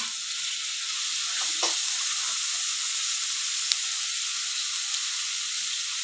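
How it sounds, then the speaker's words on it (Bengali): Potatoes cooking in a pan, a steady close hissing sizzle with a couple of faint clicks and stirring touches, no speech over it. "আলু রান্না হচ্ছে"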